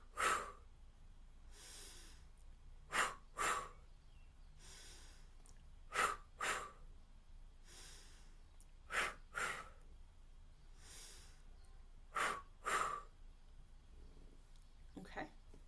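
A person repeatedly draws deep breaths in and lets them out with a forceful release, each breath cycle coming every few seconds over faint background noise.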